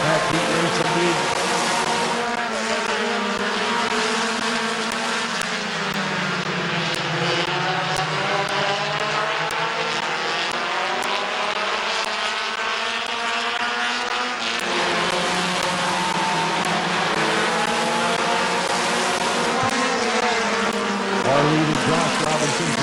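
Compact race cars run a heat at Midvale Speedway, their engines roaring and droning as they sweep past, pitches rising and falling with each pass, while a loud announcer talks over the racing throughout.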